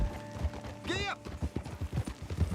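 A horse's hooves clip-clop at a quick steady pace in the Red Dead Redemption 2 video game, with a brief whinny near the start, moderately close.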